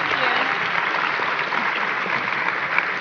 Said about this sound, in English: Let's please give a big round of applause to Victoria, Alan, Mike, and Lisa.